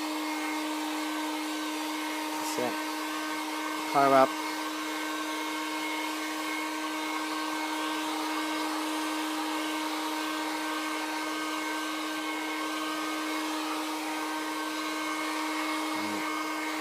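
A heat gun warms EVA foam for a Mandalorian helmet build, giving a steady, fan-like hum that runs the whole time, broken by a few brief clicks and a short spoken instruction.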